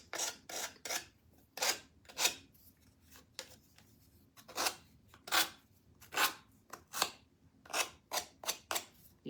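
Rhythmic rasping strokes of a sanding pad rubbed back and forth over an edge, close and steady, with brief pauses between bursts.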